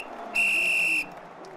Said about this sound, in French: comme l'arbitre dans notre jingle qui a soufflé dans le sifflet